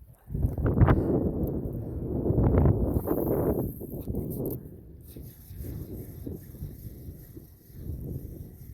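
Steady coastal wind buffets the microphone with low rumbling gusts at a lagoon-like fishing spot, stronger at first and easing later, with faint rustling underneath.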